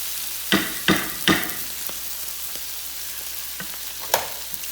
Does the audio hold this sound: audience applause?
no